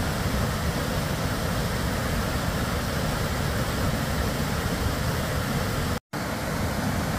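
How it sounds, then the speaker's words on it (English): A waterfall beside a river in Logan Canyon in springtime, a steady broadband rush of falling water that stays constant and fairly loud throughout, with a brief dropout near the end. "And just a nice waterfall that we'll listen to for a bit."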